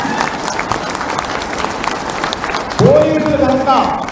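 Crowd at a Telangana political gathering claps together in a dense wash of applause, swelling louder partway through as a voice calls out over it.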